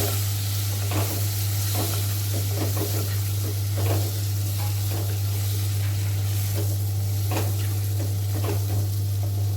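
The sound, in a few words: chopped cluster beans (guar) stirred and frying in pan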